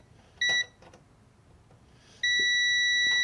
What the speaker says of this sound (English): if we put it on this one, it should beep